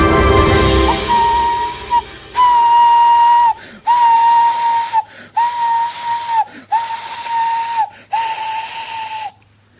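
A steam engine whistle shrieks in a series of long, loud blasts separated by short gaps, with hissing steam around each blast.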